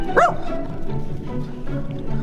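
A single sharp dog bark up close, followed by softer whimpering and yips over low background noise.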